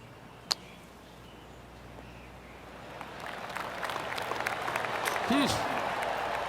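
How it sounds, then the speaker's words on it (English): Polite applause from a small golf tournament gallery swells gradually and keeps going, with a sharp click near the start and a few faint whistly bird-like notes. "golf clap, really good"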